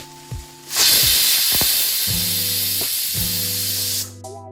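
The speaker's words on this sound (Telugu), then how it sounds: "దాన్ని కుక్కర్ మూత పెట్టేసి విజిల్ పెట్టుకుందాం" A pressure cooker on the stove, cooking spinach and meal maker pulao, lets out its whistle as a loud, sustained hiss of escaping steam lasting roughly three seconds before it cuts off.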